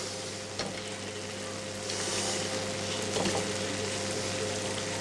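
Foie gras sizzles and fries steadily in a very hot pan, a close, continuous crackle with a low hum beneath and a brief swell of spitting midway.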